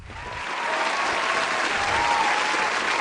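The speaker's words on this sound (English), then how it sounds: "a little round of applause there for you" A studio audience on a live money talk show breaks into applause, a steady wash of many hands clapping that swells in the first half second and then holds evenly, with no talk over it.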